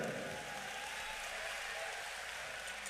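Applause from a large crowd at a religious gathering, a dense steady wash of clapping that runs the whole time with no clear break.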